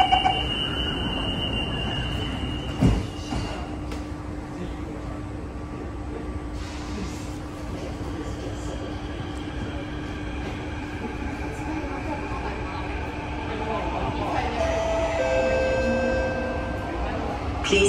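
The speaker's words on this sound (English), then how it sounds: "Doors are closing." Singapore MRT train between Mayflower and Upper Thomson, heard from inside a carriage as the doors close with a chime and the train pulls away with a continuous rumbling hum; a recorded announcement voice speaks over it.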